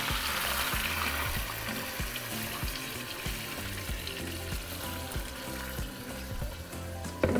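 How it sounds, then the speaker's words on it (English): Adobo sauce is poured into a hot pot of braised pork for chilorio tacos and sizzles loudly and continuously, a close, dense frying hiss with bubbling and faint stirring throughout, no voices. "now to our pot, we're going to add our adobo sauce"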